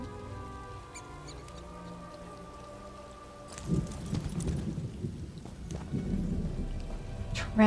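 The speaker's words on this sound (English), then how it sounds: "Rain." Rain in the video game The Elder Scrolls Online, heard as a soft, steady hiss that swells into a fuller wash of falling rain partway through, with no voices.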